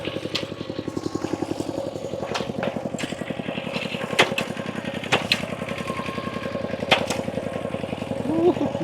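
A single-cylinder walking tractor chugs in a rapid, steady putter while ploughing a field, close and fairly loud, with sharp knocks and clanks breaking through at intervals and a brief whistle-like note near the end.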